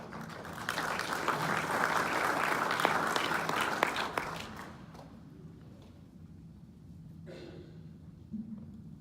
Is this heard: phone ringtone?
no